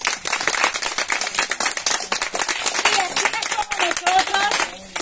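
An audience claps steadily at a cheerful Spanish-speaking gathering for grandparents. The applause is close and continuous, mixed with overlapping voices and some higher-pitched calls.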